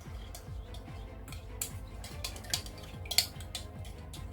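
A tropical mead mixture stirred in a pot, a utensil scraping and clinking against the metal in a steady close rhythm, with a few sharper taps standing out.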